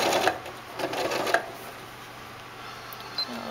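A Janome sewing machine sews a blind hem stitch in a brief, close burst of stitching lasting about a second and a half, followed by quiet room noise and a faint click.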